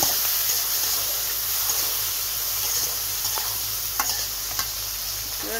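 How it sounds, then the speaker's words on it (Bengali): Finely chopped chili and onion fry in a pan for a pointed gourd bhaji, giving a loud, steady sizzle close up with a few light clicks of stirring. "এখন মরিচ পেঁয়াজ কেটে রেখেছিলাম, কুচিয়ে কেটে দিয়ে দিলাম,"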